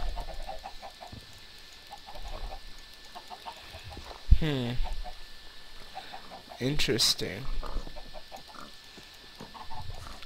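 Chickens in a Block Hunt game cluck in short bursts, including a louder squawk midway and another cluster later, heard under and between casual talk from players.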